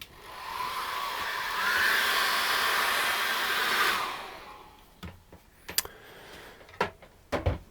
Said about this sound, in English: get a hairdryer, and let's just dry this off now